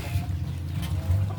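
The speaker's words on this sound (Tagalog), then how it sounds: "may pato sa likod" Ducks kept behind a house where coconut wine is being tasted, giving soft, low clucking calls that continue steadily through the short moment at close range.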